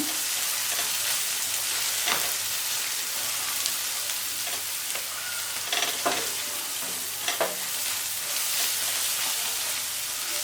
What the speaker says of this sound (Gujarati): આ બધા મસાલા ઉમેરી અને આપણે હલાવી લેવાનું છે.